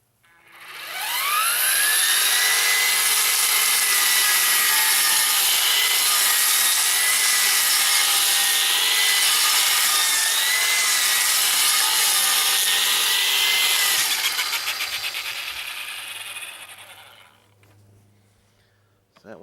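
A Ryobi Expand-It 8-inch brush-cutter attachment revs up and chews steadily through blackberry brambles, a loud, sustained high whine with a grinding, rasping edge that holds for about fourteen seconds before spinning down.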